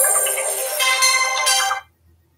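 A phone ringtone for an incoming call plays loud and close as a bright, tonal electronic melody for under two seconds, then cuts off abruptly into near silence.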